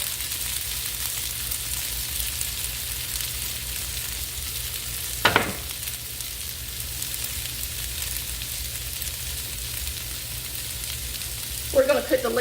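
Smoked sausage hash sizzles steadily in a pan over medium-low heat, a dense continuous frying hiss close up, with a brief clatter midway and another near the end.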